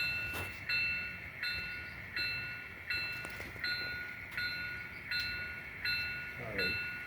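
A model locomotive runs on a layout depicting a mythical German Black Forest town, giving a steady mechanical whir with a regular pulsing rhythm and faint clicks. It sounds close and fairly quiet throughout.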